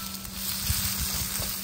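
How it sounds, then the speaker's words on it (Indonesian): Chopped lemongrass shoots and clams sizzle steadily in a hot pan with oil and seasoning, a continuous close hiss with a few soft stirring bumps. "Ini saya nak goreng basah."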